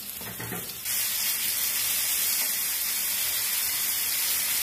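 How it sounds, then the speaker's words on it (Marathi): Stuffed Bombay duck (bombil) rolls filled with prawns shallow frying in a pan, a loud, steady sizzle that jumps up sharply after a moment and then hisses on evenly and close. "आता हे बोंबील ठेवले शॅलो फ्राय करायला, म्हणजे तळायला."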